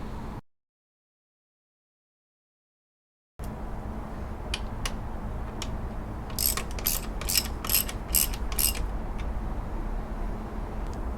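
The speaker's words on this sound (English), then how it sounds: "we're going to tighten the tension bolt up to tighten the belt up" A ratchet tightens the belt tension bolt on a Subaru Impreza, a run of quick, close clicking bursts after a brief silent gap, set over a steady background hum.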